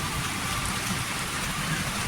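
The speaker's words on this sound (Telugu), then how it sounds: "ఫుల్ వర్షం పడుతుంది ఇప్పుడు" Steady, dense rainfall pours down continuously in a village, a broad hiss with constant patter on surfaces close by, no voices.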